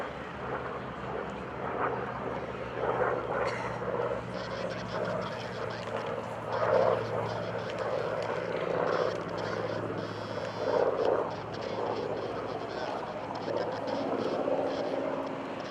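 A propeller-driven F4U Corsair warbird drones through a demonstration pass at the Blue Angels Homecoming Airshow, its engine a steady, distant roar that swells and fades slightly, with an announcer's voice faintly underneath.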